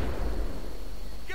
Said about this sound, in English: RPG right over my fucking head there.